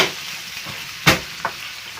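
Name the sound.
corned beef sautéing with onion in a pan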